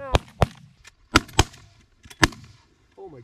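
Five sharp shotgun blasts ring out in quick irregular succession during a goose and duck hunt, loud and close, with outdoor ambience between shots and a brief voice at the end.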